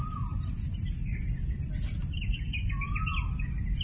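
Short chirping bird calls repeat at intervals over a steady hum of insects, moderately distant, with no voices.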